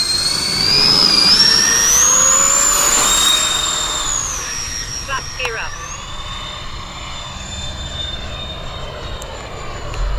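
An FMS A-10 Warthog 1500mm v2 RC jet with flaps half down flies past, its ducted-fan whine rising in pitch, loud and near at first, then fading into a steady distant hum as it pulls away.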